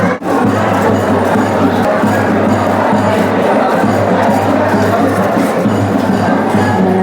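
Dense crowd murmur from a large gathering of devotees at a temple on a full moon day, a steady broad hubbub of many overlapping voices with a low hum beneath.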